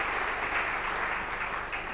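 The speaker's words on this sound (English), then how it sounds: "A big round of applause for this first panel," Conference attendees applaud a panel on funding for Africa's energy transition, a short burst of dense, even clapping at moderate distance without anyone talking over it.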